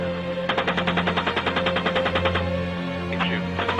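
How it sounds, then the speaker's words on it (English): A helicopter-mounted machine gun fires in a rapid, evenly pulsed burst lasting about two seconds, loud over a steady engine hum, followed by a brief shorter burst. "Keep shooting."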